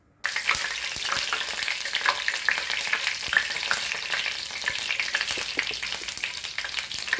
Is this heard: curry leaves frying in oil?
yes